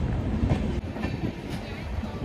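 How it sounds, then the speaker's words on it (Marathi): A train rumbles past nearby at a railway station with a low, continuous roll and faint rhythmic clatter of wheels on track. "हीच ती ट्रेन आहे ज्या ट्रेनने मी इथपर्यंत आलेलो"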